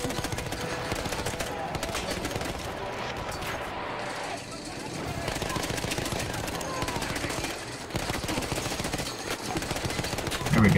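Rapid automatic and single gunshots in the shooter game Battlefield 1, dense and continuous with explosions and battlefield clatter, mixed under excited player talk.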